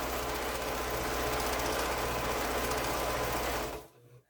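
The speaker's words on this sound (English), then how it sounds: "take that to the machine and just straight seam all the way down" A sewing machine stitches a straight quilting seam in one continuous, close, fast whirring run for nearly four seconds, then stops abruptly into quiet.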